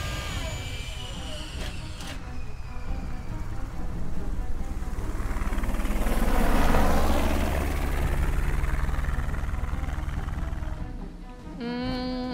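An aircraft in the Fallout New Vegas video game roars past, its engine swelling to a loud peak and then fading as it flies away, with game sounds around it.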